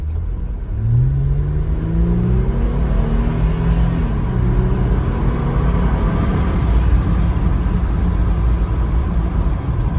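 A car, geared 513 with 37-inch tyres, accelerates in four-wheel-drive high on a test drive, its engine rising in pitch through a gear change and then holding a loud steady close rumble, no talking.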